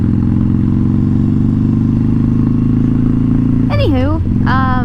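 A motorcycle engine idles loud and close in a steady drone as the rider prepares to set off, with a voice speaking over the rumble near the end.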